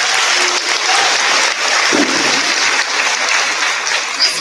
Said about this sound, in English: Another round of applause goes out to you, parents, grandparents, and family members of the class of 2021